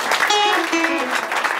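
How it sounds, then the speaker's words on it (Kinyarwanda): Dense, continuous applause fills the space, with a sustained voice carrying over the clapping throughout. "bayikomeye amashyi"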